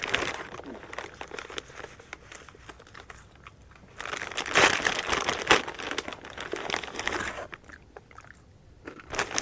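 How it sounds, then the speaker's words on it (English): A plastic bag crinkles and crunches loudly right beside the microphone, with bursts of rustling that swell in the middle and keep returning; no one talks over it. "That crinkling bag."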